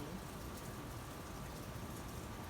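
Rain falling steadily, a faint, even hiss of drops on surfaces with no pauses, heard from a distance.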